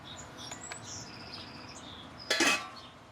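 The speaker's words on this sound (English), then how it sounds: "The birds, they're getting so excited about this." Small birds chirp and tweet in light, scattered calls nearby in a kitchen while spaghetti is prepared, with a brief clatter of dishes near the end.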